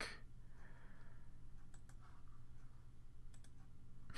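Quiet computer mouse clicks during work in CAD software, a handful of small sharp ticks spread irregularly over low steady room hum.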